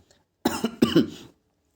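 A single person coughs twice in quick succession, close and fairly loud, the harsh bursts set against a quiet room.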